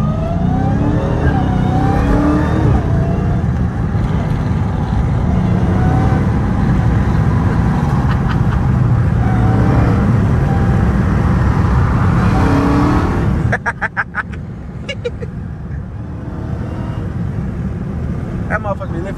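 A 2022 Dodge Challenger Hellcat Redeye on bald tires doing hard pulls, with a loud, sustained engine roar under acceleration that drops off abruptly near the end, with people talking over it.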